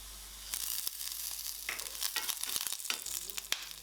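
Black pepper and dried red chillies dry-roast in a pan with a soft, continuous crackle and scattered light rattles as the spices shift, faint and close.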